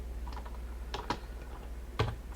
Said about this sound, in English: tapping on keys